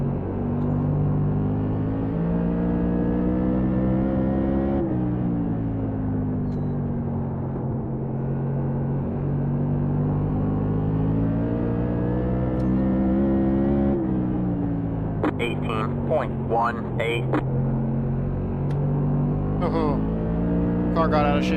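A race car in an eNASCAR racing game drones loudly and continuously, its engine pitch rising and falling through shifts, with a burst of sharp rattling clicks toward the end.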